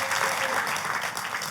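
Broadband crackling applause at a church service, steady and dense, a crowd clapping throughout with a slight fade toward the end.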